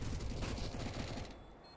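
Rapid automatic rifle spam from the terrorist side in Counter-Strike, a dense, muffled rattle of shots, distant and fairly quiet, tapering off in the final half-second.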